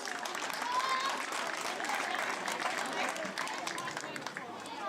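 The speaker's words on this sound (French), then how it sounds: "que je vous demande d'applaudir" An audience applauds the head cook at a community solidarity event, a dense, steady wash of many hands clapping at close range that holds for several seconds at an even level, with faint crowd murmur mixed in.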